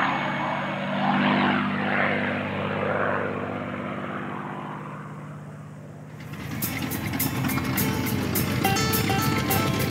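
A P-51 Mustang propeller fighter plane flies at an air show. Its loud droning piston engine dips, then surges into a close, rasping roar as it passes.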